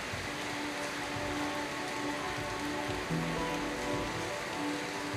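Steady heavy rain pours down in the Thai jungle near Krabi, a dense continuous hiss of drops on surfaces, close and unbroken throughout with no talk.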